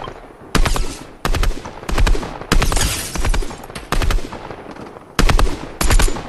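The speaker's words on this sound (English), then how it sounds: "he's actually shooting me now" Loud bursts of automatic gunfire from an enemy player in Fortnite, several close, heavy volleys separated by short pauses, with no voices over them.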